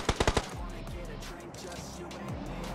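Close burst of four rapid gunshots from beneath the poles in PUBG Mobile, followed by a steady low rumble of game ambience with faint further shots, while voices talk over it.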